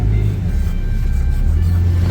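A city bus drives through heavy afternoon traffic in Lima, with a steady loud low engine rumble and road noise throughout and no clear speech.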